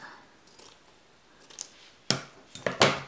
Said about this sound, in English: if your ribbon is too long, you can go ahead and trim it.